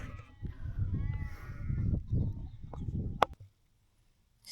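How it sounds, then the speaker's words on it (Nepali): Several sheep bleating on hilly English moorland near Lud's Church and The Roaches, with overlapping calls near and far, then a sharp knock and sudden quiet. "कस्तो भेडाहरू है"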